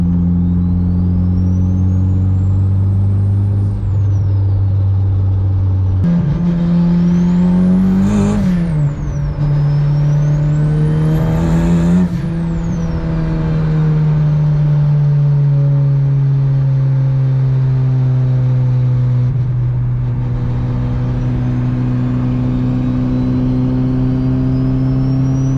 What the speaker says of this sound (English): You can see the car sound good